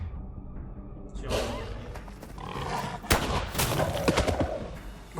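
Gunfire in The Quarry video game: a sharp close shot rings out amid a busy, cluttered game soundscape, followed by further bursts and impacts.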